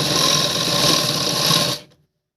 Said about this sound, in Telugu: ఇలా క్లాత్ మొత్తం కరెక్ట్గా అనుకుంటూ కుట్టాలి.